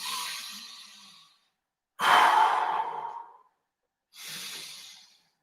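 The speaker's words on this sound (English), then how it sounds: "2 deep breaths" Three slow, deep breaths during a children's breathing exercise, each a long airy exhale or inhale of a second or more, close and clear, separated by short silences.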